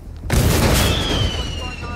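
A loud explosion in the video game Hitman 2 bursts in suddenly and rolls on as a sustained roar for about two seconds, with a thin high ringing tone above it.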